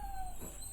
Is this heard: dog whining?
yes